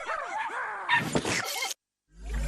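Cartoon dogs in a Sonic Boom episode yip and whimper in quick, high-pitched bursts, then cut to a brief silence before a low rumble swells in.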